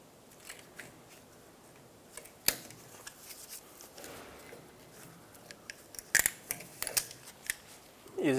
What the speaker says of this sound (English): Using a pair of pliers, remove the clamp off the bellows boot.